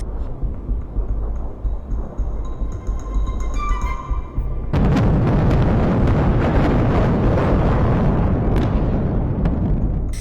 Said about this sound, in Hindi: ईरानी मिसाइलें इन एयर डिफेंस सिस्टम को भेदती हुई अब सीधे तेल अवीव में गिर रही हैं।